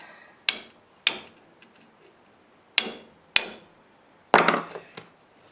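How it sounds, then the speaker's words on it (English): A dead blow hammer strikes the metal tabs of a 1988 Jeep XJ radiator in five sharp, separate blows spread over several seconds, close and crisp, the last one followed by a short rattling clatter. "Try my dead blow hammer."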